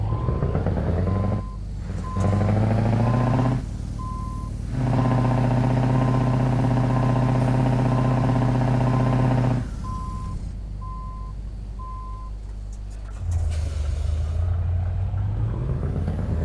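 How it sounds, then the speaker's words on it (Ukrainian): Reversing beeps from a Scania S730 V8 Next Generation truck with an open-pipe exhaust in Euro Truck Simulator 2, sounding as a steady, evenly paced series of tones over a loud, continuous low engine rumble with no talk. "Аварійку і назад поїхали."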